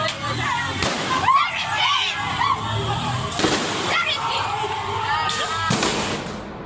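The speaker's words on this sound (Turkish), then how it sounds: "17 numaralı polis aracı geçerken silah sesleri duyuyoruz" Several sharp cracking gunshots ring out in Kampala as a police vehicle passes, over a rumbling background, spaced irregularly, with people talking and shouting nearby.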